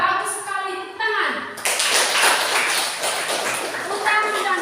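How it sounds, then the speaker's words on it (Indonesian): Classroom of schoolchildren breaks into clapping after a voice speaks, a scattered burst of hand claps mixed with voices and chatter. "tepuk tangan"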